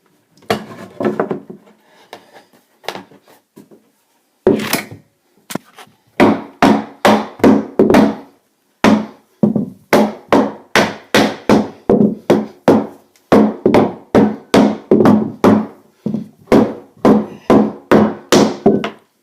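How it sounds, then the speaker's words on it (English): Sharp wooden knocks tap a glued stair tread cover board into place, coming as a few scattered hits and then a long run of regular, close, loud taps. "now it's just a matter of tapping it right into place and then nailing it in"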